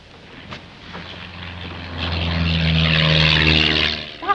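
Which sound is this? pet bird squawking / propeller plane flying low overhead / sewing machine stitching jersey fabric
propeller plane flying low overhead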